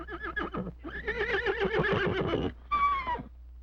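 A man imitates a horse's whinny in several wavering, neighing bursts, loud and close, with short breaks between them.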